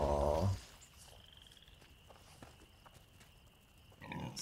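A pig in the video game A Plague Tale: Innocence gives two close grunting bursts, one at the start and one at the end, with a quiet stretch of faint ambience between them.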